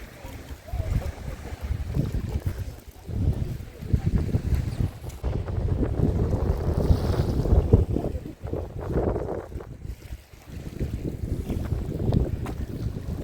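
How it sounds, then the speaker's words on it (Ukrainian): Gusty, cold wind buffets the microphone on a seaside pier in Arcadia, Odesa, in rising and falling waves near open water, with people talking intermittently underneath. "На пірси вітер холодно."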